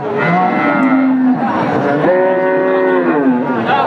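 Jersey crossbreed bull calf and cows mooing at a cattle sale, with loud, close, drawn-out lowing calls that overlap and rise and fall, filling the whole stretch.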